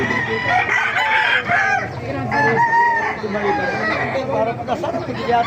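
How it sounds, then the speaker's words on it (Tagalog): A rooster crows among clucking chickens at a poultry market stall in Baliuag, with people talking and general farmyard chatter throughout. "Lalaking manok na ito."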